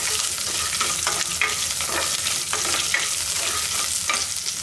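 Garlic cloves frying and being stirred in a pan for a mutton intestine curry, a continuous bright crackling sizzle with scraping stirs, close and alone.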